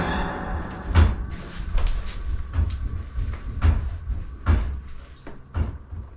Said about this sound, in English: he sees that the door is moving.